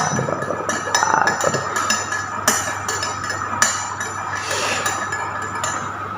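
A spoon clinks repeatedly against a glass while stirring bajigur mixed with milk, bright close taps in an irregular rhythm over a steady low background hum.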